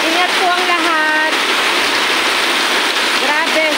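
Heavy typhoon rain from Enteng pours down steadily in a dense, loud hiss, with a voice briefly heard over the downpour.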